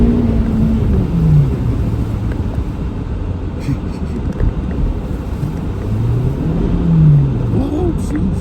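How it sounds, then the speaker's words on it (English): Acura RDX engine revving and accelerating hard through snow, a loud close rumble with rising and falling pitch sweeps over steady wind buffeting on the microphone. "If I floor it."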